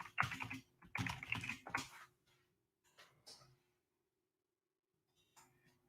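Short bursts of typing on a computer keyboard, a few quick clusters of key clicks followed by quiet pauses, close and faint.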